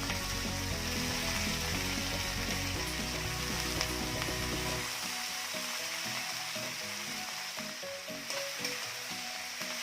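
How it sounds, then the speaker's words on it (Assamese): Eggplant pieces fry in oil for an Assamese fish and eggplant curry, a continuous close hiss and crackle with stirring clatter early on that settles into smoother sizzling, no voices. "এয়া এতিয়া বেঙেনাখিনি ভাজি দিলে"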